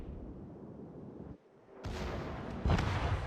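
Battleship main-gun shells in a naval combat game against a Cherbourg cruiser: continuous low rumbling booms, a brief dip, then a louder burst of heavy firing and blasts near the end, no talk.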